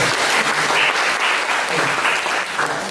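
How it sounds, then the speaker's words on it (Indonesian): Loud, dense applause from students during a university hematology and clinical oncology lecture, steady and close, lasting the whole short moment with no talking. "Aja, tepuk tangan,"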